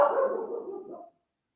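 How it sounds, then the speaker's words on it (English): A single drawn-out dog bark or howl trails off over about a second, fairly close and alone, behind a casual football chat. "Dog is going mad in the back."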